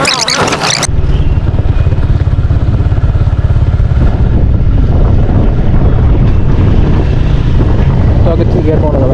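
A motorcycle ridden slowly during a beginner's riding lesson gives a loud, steady engine drone close by, with wind buffeting and voices talking over it throughout.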